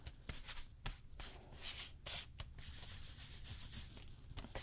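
Painted skulls for a Halloween book nook being burnished by hand, a steady close scratchy rubbing with a few sharper scrapes and strokes, no voices.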